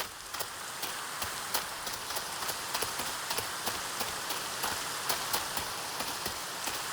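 Rain falling in the video game Minecraft, a soft steady hiss dotted with frequent crisp droplet ticks spread evenly throughout, fairly quiet and with no voices.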